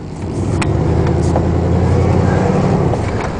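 Ford Club Wagon van with a Braun wheelchair lift and a worn muffler pulling up toward highway speed, its engine droning loudly and steadily up close with a rising note through most of the stretch before easing off at the end.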